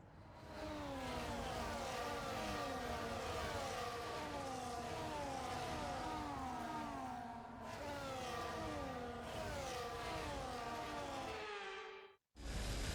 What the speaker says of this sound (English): The formation lap gets underway ahead of today's sprint.